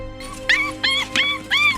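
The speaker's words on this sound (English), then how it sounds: "On hearing the pup's cry," A puppy with its head stuck in a jar cries out in four high, wavering whimpers and yelps, close and loud, each short and rising with pauses between.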